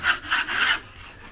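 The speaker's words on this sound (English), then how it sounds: "So we got to go around, scrape it down as much as we can," Old material is scraped off a surface in a condo with a hand tool: three quick, rasping strokes close by, followed by a short quiet pause.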